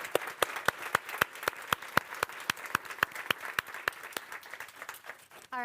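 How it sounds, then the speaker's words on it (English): Audience at a research conference on global lead exposure applauding panelists: crisp, evenly spaced claps from a small group ringing out in a room, slowing slightly before fading, with a short tone at the end. "So if I could get a big round of applause for our panelists"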